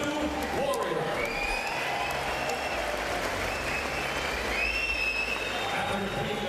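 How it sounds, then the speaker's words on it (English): Crowd applause at a bare-knuckle boxing event in Newcastle after a five-round fight, steady dense clapping and cheering from a large arena audience filling the whole stretch at even volume. "let's have a round of applause for these two warriors"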